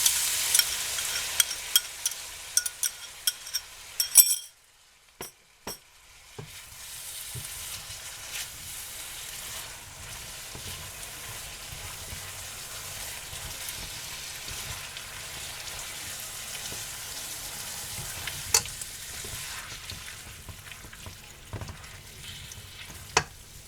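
Sauce added to beef lo mein in a pan, sizzling and frying steadily at moderate volume, with stirring scrapes and a brief lull early on before the crackle resumes and continues.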